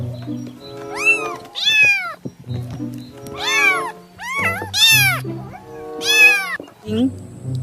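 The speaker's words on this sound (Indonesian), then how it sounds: "Wow, seekor kucing." A cat meows repeatedly, loud and close, with long drawn-out rising and falling cries in an irregular series.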